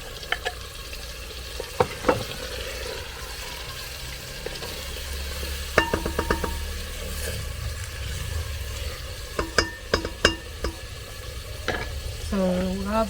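Scotch bonnet pepper and onion frying in a pan with a steady low sizzle, broken by scattered sharp clicks and scrapes of stirring, while a faint voice comes in near the end.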